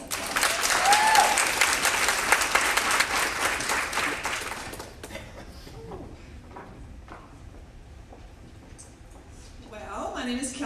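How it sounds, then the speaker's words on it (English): An audience at a women's church event claps loudly for about five seconds, then the applause thins out to scattered claps and quiet rustling, with a brief burst of voices near the end. "So let's give her a big round of applause."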